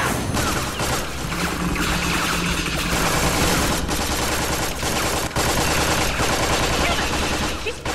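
Sustained rapid gunfire in Tales from the Borderlands, a loud continuous machine-gun rattle with crashing impacts throughout, voices faintly under the din.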